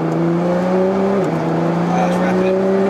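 An 800bhp Nissan HKS GT-R accelerates hard, its engine note climbing through a short gear change with a steady, loud drone inside the cabin, voices talking over it.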